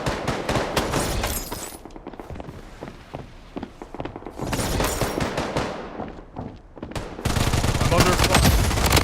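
Rapid automatic gunfire rattles in a shooting video game, dense bursts of loud cracks that pause and resume, ending in a sustained heavy barrage.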